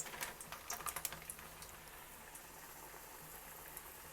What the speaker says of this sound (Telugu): నూనె వేడెక్కిన తర్వాత మీడియం ఫ్లేమ్లో కానీ సిమ్లో కానీ పెట్టి మనం ఇది ఒక్కొక్కటి తీసి జాగ్రత్తగా వేయాలి.